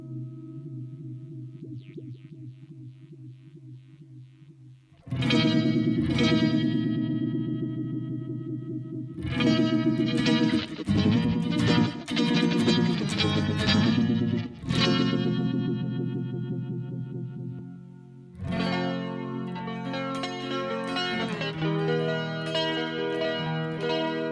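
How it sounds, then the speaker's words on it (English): An electric guitar runs through the Univibe effect on a Line 6 M9 processor, starting with soft, swirling held notes, then bursting into loud strummed chords that pulse and warble throughout, with brief pauses between passages. "Here's Univibe, which I always love."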